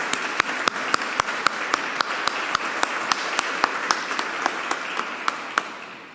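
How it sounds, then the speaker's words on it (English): A church audience applauds a retiring pastor, with a sustained wash of clapping and a few sharp, distinct claps standing out, gradually easing off toward the end. "give him another round of applause just in appreciation for his many years in ministry."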